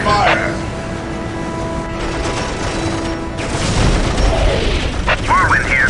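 Whirlwind missile battery firing in the Dawn of War strategy game: heavy booms and dense rumbling blasts roll through a noisy battle scene, with unit voices speaking over the barrage.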